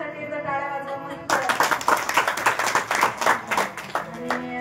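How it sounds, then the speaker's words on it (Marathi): Audience at a kirtan bursts into a round of hand clapping, a dense crackle of many hands close by that follows a brief stretch of music and keeps going to the end. "दादासाठी एकदा टाळ्या वाजवा मस्त."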